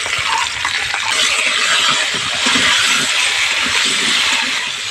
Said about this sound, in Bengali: আলুগুলো ভালো করে লাল লাল করে ভেজে নিতে হবে